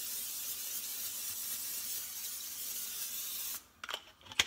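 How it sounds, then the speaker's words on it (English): A spray can sprays in a long steady hiss for about three and a half seconds, then cuts off, followed by a few faint clicks and rattles. "I get the spray."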